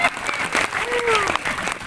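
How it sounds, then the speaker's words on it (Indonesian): Applause for the young people of Curug Barang at an outdoor religious sermon held in a rice field, a steady clatter of clapping mixed with crowd voices and talk, lasting a couple of seconds. "Tepuk tangan untuk pemuda-pemuda di Curug Barang"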